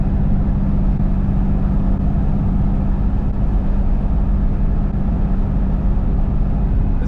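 Nissan 350Z driving with a quiet exhaust, a steady low engine drone and road rumble holding level and close throughout, with no revving bursts.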